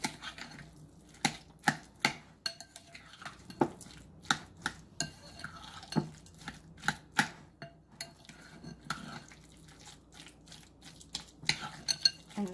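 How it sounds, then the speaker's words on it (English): Egg salad with dill pickles being stirred in a bowl: a spoon strikes and scrapes the bowl in sharp, irregular clinks, close and fairly quiet, with no talking. "Then you just stir it all up."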